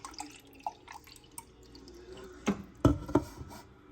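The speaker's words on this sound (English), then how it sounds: "we've poured pretty much equally in all 3 cups" Water pours from a pitcher into cups in a few soft splashing bursts with quiet drips and trickles between them, growing louder toward the end.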